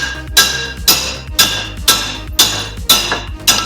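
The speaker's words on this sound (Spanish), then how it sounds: "Y ahora un par de golpes secos para adentro deberían hacerlo" Seven sharp, evenly spaced metallic hammer blows ring out, driving a Suzuki Grand Vitara axle shaft into its bearing, each strike loud and close with a brief clinking decay and no talk.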